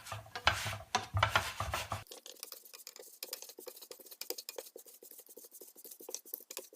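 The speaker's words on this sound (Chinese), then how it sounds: "然后用2个铲子再轻轻往里推一下" Two spatulas scrape and push a flaky, golden home-style pancake inward in a hot pan, making soft, rapid rubbing and scraping sounds, louder at first and then a light, steady patter of close, continuous scratching.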